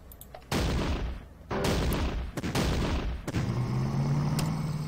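L3 (CV-33) tanks fire on a truck and infantry in the Battle Academy Western Desert Campaign game: a string of four or five sharp, loud shot bursts with short gaps, each decaying quickly, ending under a low mechanical hum.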